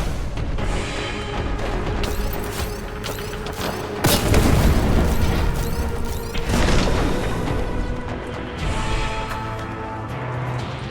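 A grenade explosion in the shooter game Warhammer 40k Boltgun, a sudden heavy boom bursting out amid a constant din of gunfire and mechanical clatter, followed by another surge of noise.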